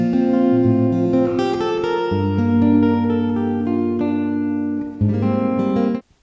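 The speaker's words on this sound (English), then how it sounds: "So here's the guitar plugged in with a little bit of reverb." An Enya X3 Pro full-size carbon fiber acoustic guitar, plugged into an audio interface with reverb, plays sustained strummed chords and picked notes, close and steady, with no talking.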